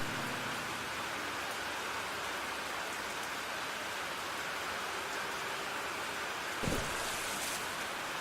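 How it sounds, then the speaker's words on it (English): Heavy rain pours down steadily in a video game scene, a dense unbroken hiss of drops hammering the ground, with one brief thud near the end. "The onslaught of raindrops pounded down on us like tiny hammers, rendering Kelly's shouts barely audible."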